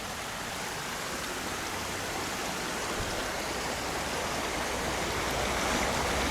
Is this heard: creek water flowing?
yes